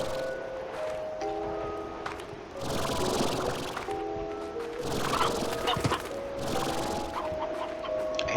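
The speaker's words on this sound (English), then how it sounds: "I hear a chicken." Clucking chickens in the farming game Slime Rancher, several short calls scattered over a busy background of game ambience and tonal music, moderately near.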